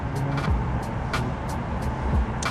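Steady road traffic with cars rolling in toward a spring-break destination, a continuous low engine and tire rumble with a couple of heavier vehicles passing nearby, moderately loud throughout.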